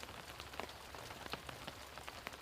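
Steady rain falling in Baltimore, a fine even hiss with scattered soft drops pattering on a surface, quiet and close, with no voices.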